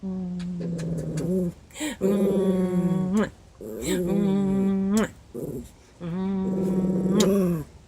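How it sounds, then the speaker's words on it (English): A dog growls in several long, rumbling stretches with short pauses between, close and fairly loud, while being picked up. "He growls whenever I pick him up."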